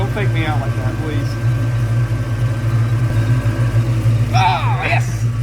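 A 1969 Dodge Charger on a long road trip idles with a steady low rumble throughout, while people talk loudly over the engine close by.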